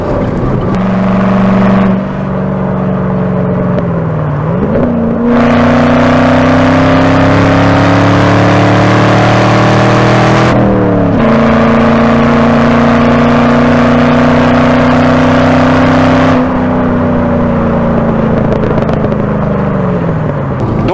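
A Chevrolet Camaro SS V8 on a tight, bumpy hillclimb road, its engine droning loud and close throughout, rising and falling through gear changes with revving surges as it works hard enough to burn its tires.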